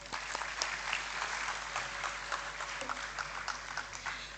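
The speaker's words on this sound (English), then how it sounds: "Please join me in welcoming them with a huge round of applause." Applause welcoming speakers at a university campus AI festival in India, a continuous, fairly faint patter of many hands clapping across a hall, with a low steady hum underneath.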